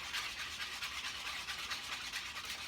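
Egg mixture for French toast being whisked in a bowl with a combination egg separator and whisk, a steady fast scraping, brushing texture that runs continuously and close up with no talking.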